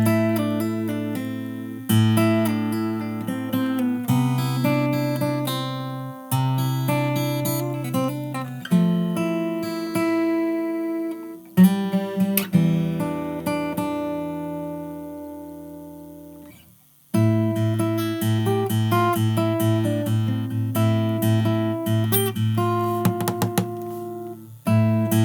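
Fingerstyle acoustic guitar plays the second verse of a song, with plucked melody over bass notes, a sparse stop-time section partway through, then a full rhythmic return, close and alone.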